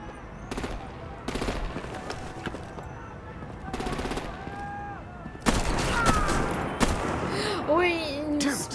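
Bursts of rapid gunfire and artillery rattle through a Batman: The Enemy Within video game scene, several volleys in the first half, then heavier rumbling blasts while a voice speaks over the action.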